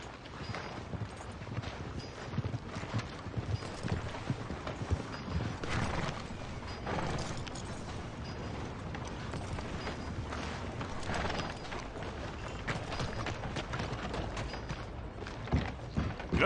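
Horse hooves clip-clop steadily in a video game as the animal is ridden toward a hitching post in town, a continuous rhythmic trot with faint mechanical creaks, no talk over it.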